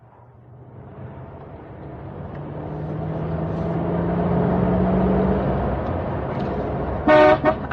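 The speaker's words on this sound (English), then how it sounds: "I think there's a car following us, Mr. Haywood." A car engine hums and swells steadily in a radio drama chase scene, then a few short, loud horn toots sound near the end.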